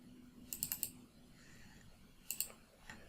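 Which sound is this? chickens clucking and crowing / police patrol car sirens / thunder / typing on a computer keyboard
typing on a computer keyboard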